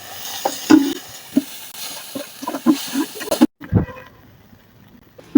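Shrimp seasoned with turmeric and salt fry in a pan, a soft sizzle under repeated spatula scrapes and taps in an irregular rhythm, close by, until the sizzle cuts out abruptly and a couple of louder knocks follow.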